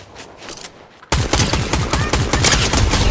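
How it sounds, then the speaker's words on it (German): Rapid bursts of gunfire erupt suddenly and continue densely in Fortnite, loud and close, following a quieter stretch of distant shots. "Und die schießen auf mich."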